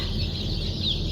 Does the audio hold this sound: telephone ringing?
no